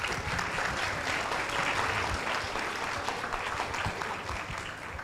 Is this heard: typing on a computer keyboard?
no